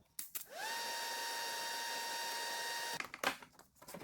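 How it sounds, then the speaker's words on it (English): A hole saw on a drill spins up into a steady, high motor whine while marking holes in a car's front end. It runs for about two and a half seconds, then cuts off, followed by light clattering and handling noises. "I just mark it with the hole saw again to get those pipes in exactly the right spot"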